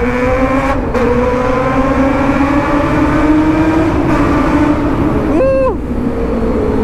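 Suzuki GSX600R 2008 motorcycle engine revving while ridden into a tunnel, a loud sustained harmonic drone that rises and falls with throttle, brief gear-shift dips, and a quick rev blip near the end, echoing in the enclosed space.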